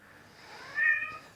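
A single short kitten meow rises and falls, close and clear over quiet room noise at an animal rescue.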